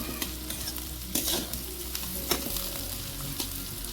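Chopped green chillies frying and being stirred in a pan over a clay stove, a steady close sizzle broken by several scraping stir strokes, with no voices.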